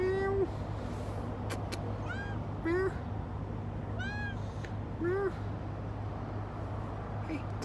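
A small cat gives several high, plaintive meows at irregular intervals, loud and close, over a steady low engine-like drone.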